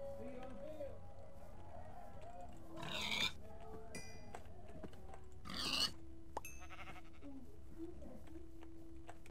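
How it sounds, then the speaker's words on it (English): Pigs grunt in the Minecraft UHC video game, two short bursts standing out over steady in-game ambience, with no talking. "And killing pigs for food."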